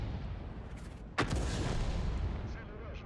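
A tank gun fires once in World of Tanks, a single sharp boom from an M40/M43 howitzer standing out over a steady rumbling battlefield background, with a voice also present.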